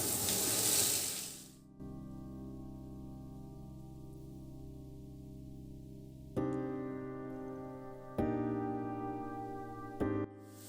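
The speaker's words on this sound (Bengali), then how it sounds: "সবজি দিয়ে ভালো করে নাড়াচাড়া করে ভেজে নেব" Shredded cabbage, carrot and capsicum hit a hot pan with a loud sizzling burst, then settle into a steady fry broken by three sharp clanks of a spatula or pan knock.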